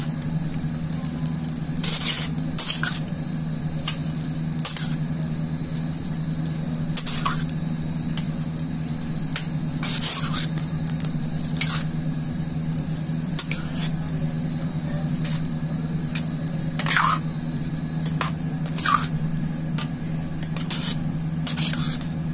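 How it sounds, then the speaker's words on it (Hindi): A spoon mixes pear raita with salt and roasted cumin in a bowl, giving soft clinks against the bowl and wet squishing at a steady pace over a constant low hum. "इसको अच्छी तरह से मिक्स कर देंगे।"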